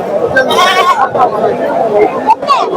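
Big-eared goat kids bleat in short quavering calls amid a crowd at a weekly goat market in Rojarnahalli, with people talking and chattering close by over the animal cries.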